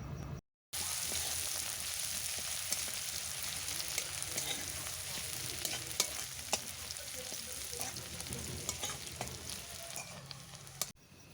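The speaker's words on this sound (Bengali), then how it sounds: "পেঁয়াজ কুচি দেওয়ার পর ভালোভাবে নাড়াচাড়া করে ভেজে নেব।" Chopped onions fry in oil with panch phoron, a steady close sizzle under repeated spatula strokes and scrapes against the pan, continuing for several seconds without talk.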